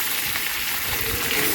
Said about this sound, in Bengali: পেঁয়াজ ভাজা করে মাছের মাথাকে সেটা ভেজে নিতে হবে ভালো করে